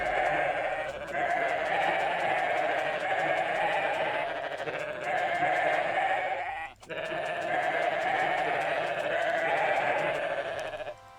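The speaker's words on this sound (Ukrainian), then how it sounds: "Давайте зараз надаємо овець." Sheep bleating in the god-simulation video game WorldBox, a steady overlapping chorus of game-sound bleats repeating in loops for about eleven seconds with one brief dip in the middle.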